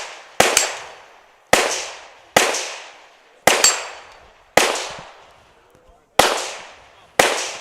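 Rifle shots at a gun shooting competition ring out as seven sharp, evenly spaced cracks, each with a fading echo tail, and a commentator talks between them.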